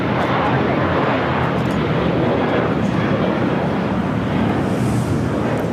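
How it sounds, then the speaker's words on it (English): JetBlue Airbus A321 jet taking off at LAX, a steady loud roar of engine and rushing air filling the whole stretch without letup, with faint voices underneath. "This is MINT taking off to JFK JetBlue 2074. It's an A321."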